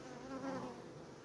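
Honeybees buzzing around a nucleus hive entrance in a close, steady drone with a wavering hum, sounding like many insects busy around one spot.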